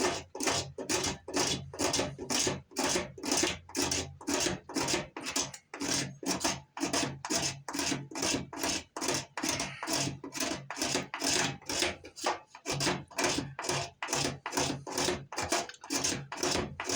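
Rich fatwood being scraped with a blade for fire tinder, rhythmic rasping strokes repeated about twice a second, close and steady.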